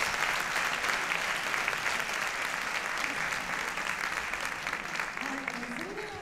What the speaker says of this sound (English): Please give a big round of applause once again to all the panelists.